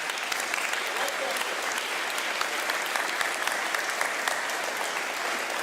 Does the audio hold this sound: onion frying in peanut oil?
no